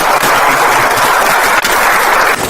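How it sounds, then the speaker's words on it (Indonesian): A large audience applauds at a talk, a dense, steady wash of clapping that holds loud and even for a couple of seconds before tailing off near the end. "Mari kita tepuk tangan."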